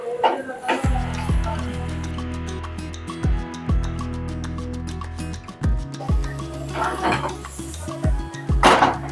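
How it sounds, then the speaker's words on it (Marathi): Eggplant pieces being mixed in a pan with salt and yogurt: repeated clanks and scrapes of a utensil against the pan, with ringing metallic tones, close by. "आता छान मिक्स करून घेऊया"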